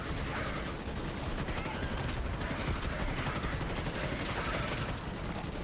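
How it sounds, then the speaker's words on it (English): Sustained automatic gunfire from Starship Troopers: Extermination, a steady dense rattle of rapid shots that runs without pause at fairly close range, with faint talk mixed underneath. "I'll just shoot them."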